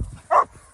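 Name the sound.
dogs barking, husky among them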